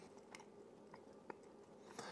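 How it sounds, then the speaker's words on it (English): Someone slowly chews a dry, hard raisin snack cake from a dollar store, and the faint, close mouth sounds are broken by a few small crunchy bites. "It's taking a long time to chew."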